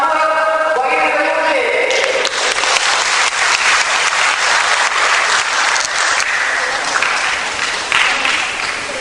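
An audience at a national seminar breaks into sustained applause to welcome a speaker, dense clapping filling the room loud and steady throughout.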